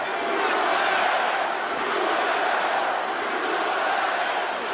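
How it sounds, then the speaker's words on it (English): Arena crowd at a UFC fight roaring steadily behind a fighter, a dense, loud wash of cheering and shouting that holds throughout. "Crowd trying to get behind Poirier"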